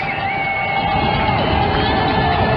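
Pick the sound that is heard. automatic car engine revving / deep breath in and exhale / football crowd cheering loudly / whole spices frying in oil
football crowd cheering loudly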